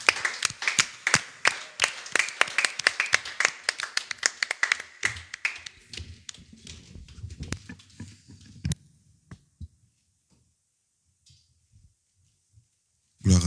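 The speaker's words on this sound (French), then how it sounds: "Nous voulons honorer ta présence par des acclamations" Congregation clapping in worship, a run of fairly quick, rhythmic claps close by that gradually loosens and thins out, then quiet after about nine seconds with a few isolated taps.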